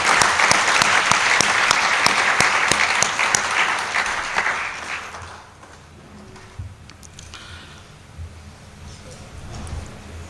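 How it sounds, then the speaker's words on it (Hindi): Hall audience at a Panchgavya conference in Dwarka clapping to welcome a guest, loud sustained applause that fades after a few seconds into quieter room noise and scattered claps. "इनका तालियों के साथ हम एक बार फिर से स्वागत करेंगे।"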